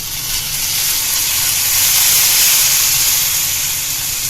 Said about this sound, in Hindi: तो अब हम तड़का लगा देंगे इसमें।